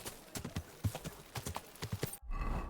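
A horse in the medieval video game Kingdom Come: Deliverance 2 clip-clops along in a steady run of hoof falls, moderately close and fairly quiet, before the sound cuts off abruptly.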